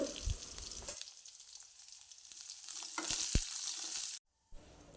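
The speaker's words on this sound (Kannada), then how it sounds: "ಈರುಳ್ಳಿ ಕೂಡ ಸ್ವಲ್ಪ ಎಣ್ಣೆಯಲ್ಲಿ ಫ್ರೈ ಆಗಬೇಕು" Onion frying in oil for a banana flower stir-fry, a steady close sizzle with occasional louder pops and stirring scrapes, cutting out briefly near the end.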